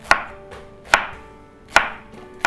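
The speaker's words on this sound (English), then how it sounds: "and then chop it into small pieces" A knife chops pineapple into small pieces on a cutting board, three sharp evenly spaced strikes about a second apart followed by a quick lighter tap, close and crisp.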